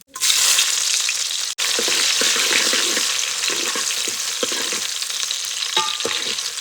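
Cumin and onions hit hot oil in a pan for Gujarati urad dal, a loud, steady close sizzle with stirring scrapes running through it, and a brief break near the start.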